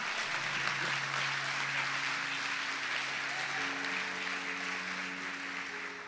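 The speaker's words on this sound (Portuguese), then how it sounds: "Pode aplaudir ao Senhor, meu irmão." A congregation at a church service applauds in a steady, dense wash of clapping that carries on throughout, with sustained organ or keyboard tones underneath.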